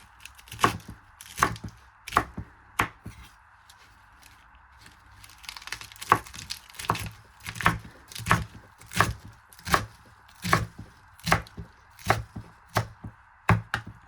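Knife slicing avocado and mango for a salad on a board, a run of crisp, evenly spaced chopping taps close up over a faint steady background hum.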